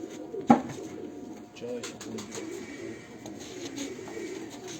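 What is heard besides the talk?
Sialkoti pigeons cooing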